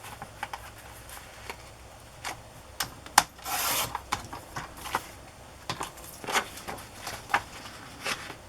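Paper for a smash book cover image is trimmed close up with soft, irregular scraping and rubbing strokes. Each stroke is quiet and brief, with one slightly longer rasp partway through.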